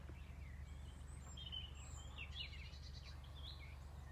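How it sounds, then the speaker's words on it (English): Faint birdsong drifts in from a distance outdoors, scattered high chirps and short trills over a low steady hum. "But can you hear the birds?"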